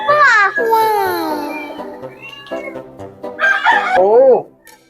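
A rooster crows loudly and close, one long drawn-out call that ends in a rising cackle, while people talk excitedly in Tagalog over it.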